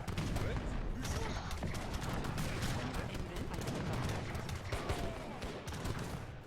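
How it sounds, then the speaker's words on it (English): Rapid overlapping cluster bomb blasts and crackling explosions in the Age of Empires III: Definitive Edition video game, a dense continuous barrage of battle noise with faint voices underneath. "cluster bomb!"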